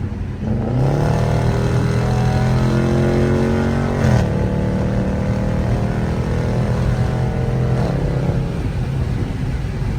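Dodge Charger RT Scat Pack with a loud aftermarket exhaust rumbles close by, a deep steady drone that swells in pitch as it revs and passes, loud throughout.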